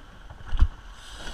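A rowing crew takes oar strokes on open water into a headwind, with a soft splash and knock of blades peaking briefly in the middle over steady wind and water noise.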